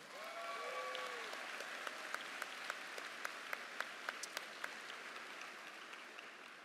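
An audience at a high school graduation applauds parents with steady, moderately loud clapping. Distinct individual claps ring out over the crowd, and a few brief whistles or cheers rise early on.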